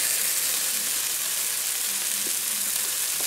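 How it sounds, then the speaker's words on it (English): Stuffed mackerel chili paste mixture frying in a pan, giving a loud, constant close-up sizzle that holds evenly throughout with no voices over it. "Fry the mixture well and check for salt."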